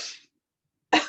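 A single cough bursts out after a belly-slapping chair yoga breathing exercise, preceded by a brief breathy exhale and a pause of silence; close and fairly loud, alone without talk.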